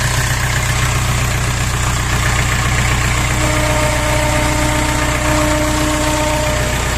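A mini tractor's small diesel engine idles steadily, a low continuous rumble with a faint rattle, close by and unchanging throughout.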